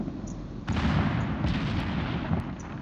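Heavy naval gun salvos from a cruiser in World of Warships, a deep, rumbling boom that swells and holds under a constant roar of engine and ambient game noise, with a few faint higher cracks; no talk.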